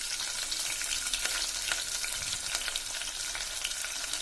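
Lengthwise-sliced big onions sizzle in hot oil for tomato rice, a steady close hiss with repeated spatula scrapes as they are stirred, moderately quiet and with no voices.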